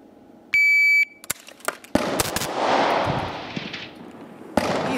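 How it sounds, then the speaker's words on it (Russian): A sharp electronic shot timer beep, then a quick burst of loud pistol gunshots close by during a shooting drill, followed by a rumbling echo and another shot. "после сигнала таймера стрелок снимает оружие с предохранителя и, собственно, приступает к выполнению упражнения"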